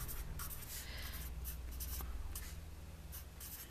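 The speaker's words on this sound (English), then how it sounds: "I'll write that down so that you can actually see it" Pen strokes scratch across paper as an email address is written out by hand, a quiet, close series of short scribbling bursts.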